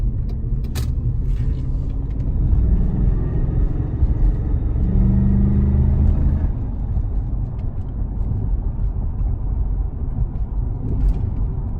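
A one-owner donated Cadillac DeVille cruises steadily in overdrive, its engine and road noise forming a continuous low rumble with a brief rise in drone midway, no voices.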